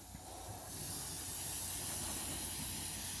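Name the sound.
spraying brake cleaner onto an oily engine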